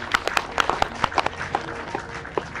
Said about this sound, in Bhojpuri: बिंदा जी के लिए एक बार आप लोग जोरदार ताली बजा दीजिए।